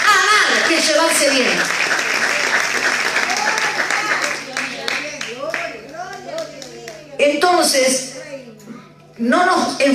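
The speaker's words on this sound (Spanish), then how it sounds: "¿Le podemos dar un fuerte aplauso a Jesucristo?" Church congregation applauding at a worship meeting, strong clapping at first that thins out as a voice speaks and shouts over it, with a renewed burst near the end.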